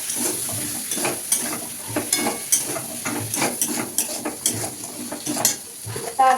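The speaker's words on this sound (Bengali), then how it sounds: "কেটে ধুয়ে রাখা আলুটা দিয়ে ভালো করে একসাথে কষাবে" Potato pieces are stirred and fried with spices in oil in a pan, a steady sizzle running throughout with repeated scraping strokes of a spoon against metal, close and fairly loud, with no talking.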